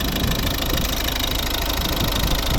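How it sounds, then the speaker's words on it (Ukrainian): A 2011 Volvo V50 1.6 D2 diesel engine idles up close, a steady rough rumble with a faint knocking rhythm throughout. "Це робота двигуна"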